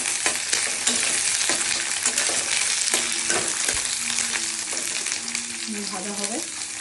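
Ginger sizzles steadily as it fries in a pan for paneer tadka, a loud, continuous crackle with occasional stirring and faint talk in the background.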